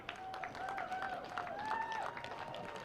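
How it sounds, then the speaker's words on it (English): Crowd applause for the winning Under-16s team from Canterbury at the National District 9s tournament, a steady, moderately distant patter of clapping over a few seconds alongside a faint whistle-like tone. "a round of applause for your winners of the Under-16s for the National District 9s tournament"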